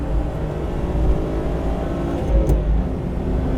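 Car lapping the Nemuno žiedas race circuit in Lithuania, a loud, close engine drone with steady road and wind roar, holding a fairly even pitch through a short stretch before the first chicane, with no talking.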